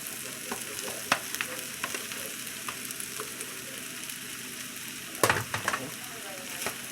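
Rice sizzles and fries in a hot oiled pan for vegan chicken fried rice, a steady crackling hiss with a few sharp scrapes and stirring clatters, close and continuous with no talking.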